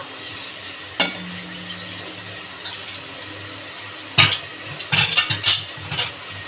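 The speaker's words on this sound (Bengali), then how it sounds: "আগে থেকে গ্যাস অন করে খালি কড়াই বসিয়ে দিয়েছি খালি কড়াইয়ের মধ্যে জল দিয়ে দেবো" Water hitting a hot empty wok on a gas stove, a sudden hiss followed by a fading simmer, then a run of splashy clatters and metal knocks close by; no talking.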